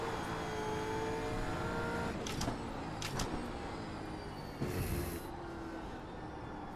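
A Gen 3 V8 Supercar races at Virginia International Raceway in iRacing, its engine a steady, loud droning roar with a few brief clicks and shifts, heard alone.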